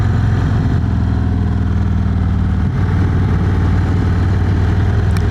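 An Indian Springfield Dark Horse motorcycle engine drones steadily and loudly while riding, a low continuous rumble with wind noise.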